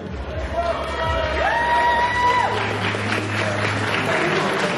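Audience applauding in a hall at a bodybuilding championship, a steady wash of clapping and crowd noise lasting throughout, with an announcer's voice and tones sounding over it.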